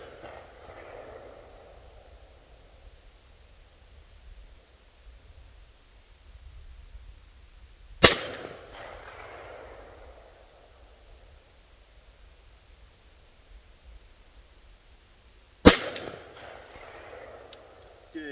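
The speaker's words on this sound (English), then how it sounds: "All right, send it 3 rounds downrange." A 5.56 MP-15 AR rifle fires outdoors at night: two loud, sharp cracks about seven seconds apart, each followed by a decaying echo, with a fainter snap right at the end over quiet background hiss.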